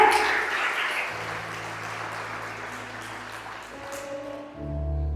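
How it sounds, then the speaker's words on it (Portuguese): A church congregation applauding during a sermon, a dense burst of clapping that fades toward the end, with musical tones underneath. "Vamos aplaudir o Senhor."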